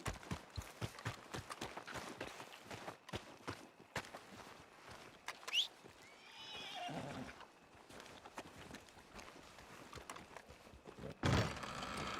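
Hooves clip-clop in steady steps in Red Dead Redemption 2, then a horse whinnies in a rising, wavering call partway through; moderate level with the footsteps continuing afterward.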